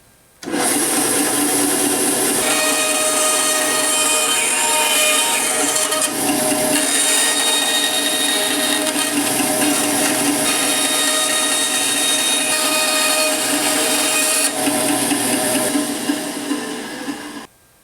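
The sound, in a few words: bandsaw cutting a crappie jig lure blade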